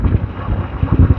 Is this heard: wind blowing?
yes